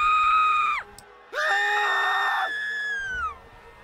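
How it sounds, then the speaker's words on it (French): Several human screams ring out in a video game cinematic, two loud sustained shrieks in succession, the second longer and layered, fading into low rumbling ambience with no talking. "des hurlements retentissent."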